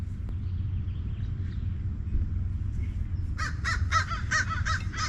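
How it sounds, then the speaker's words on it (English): A crow caws in a quick series of about seven harsh calls near the end, fairly close and clear above a low rumbling outdoor background in a rain-soaked park. "Even the crows agree."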